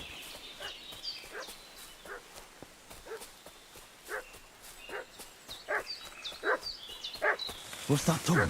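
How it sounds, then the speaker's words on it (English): A dog barks repeatedly in Kingdom Come: Deliverance II, with sharp, spaced barks that grow louder and more frequent toward the end, alongside footsteps and speaking voices. "What's that dog making such a fuss about?"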